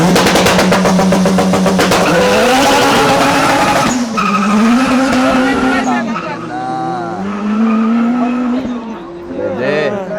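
An all-wheel-drive Honda CR-V with a B20 engine launches hard on a racetrack, its engine wailing and tires squealing and skidding in long rising tones, close and loud, while voices talk over it.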